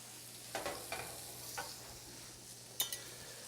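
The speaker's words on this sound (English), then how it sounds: "we're talking about searing tuna on both sides, getting it on a nice grill" Tuna searing in a hot pan gives a soft, quiet sizzle with a few brief bursts of spitting, heard close but faint against low background hiss.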